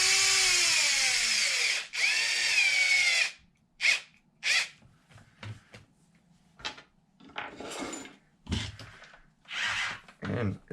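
A power driver whines in several bursts while seating a set screw on a Traxxas Xmaxx RC truck: a long run-up, then short starts and stops, with metallic clinks and handling noises close by.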